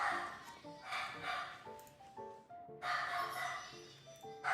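Several dogs bark in short, irregular bursts at moderate distance within a game soundscape, with steady background music running underneath.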